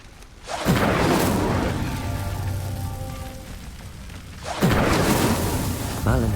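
Two bursts of the Incendio fire spell lighting pyres in Hogwarts Legacy, each a rushing whoosh that swells into crackling flame, with a magical shimmer at the end, while someone talks over the sound.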